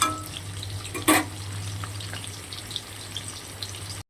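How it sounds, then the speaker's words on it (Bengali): Potatoes fry in hot oil in a home kitchen with a steady, close sizzle, broken once by a brief louder splash or stir near the start. "বেশ ভালো করে সুন্দর করে লাল লাল করে আগে আলুটা ভেজে নেব।"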